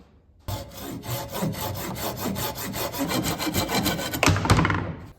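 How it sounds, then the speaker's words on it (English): A pole saw rasps steadily through a wooden axe handle in quick back-and-forth strokes, close and fairly loud, with a brief sharper scrape near the end. "I think we'll just use the old trusty pole saw here to get this done"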